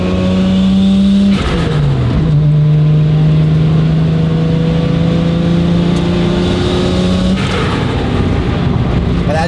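Toyota Supra MK4 turbo engine revving loudly up close, with a strong steady drone that drops in pitch and climbs again, sharp gear-change-like breaks in tone, and turbo whine layered over the rumble.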